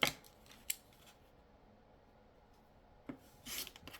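Scissors trimming the edges of a sewn Kona cotton quilt block, a few quiet, close snips and rasps separated by near-silent pauses.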